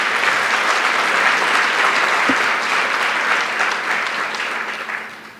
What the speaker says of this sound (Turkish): Hepsini tekrar bir alkışlayalım bakalım.